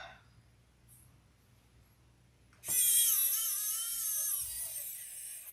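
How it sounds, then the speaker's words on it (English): A power drill whirs as it drives a screw into very thick leather, a loud high-pitched motor whine starting abruptly partway through and holding steady to the end, with faint talk beforehand. "It's screwing into leather"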